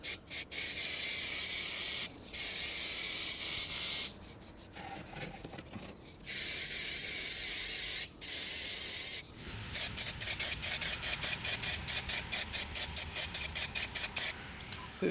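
Spray can painting plastic outdoors in snow, wind and freezing cold: long hissing bursts separated by pauses, then a quick run of short rhythmic spray puffs, close and loud.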